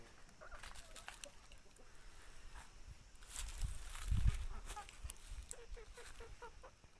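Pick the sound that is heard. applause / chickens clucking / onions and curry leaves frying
chickens clucking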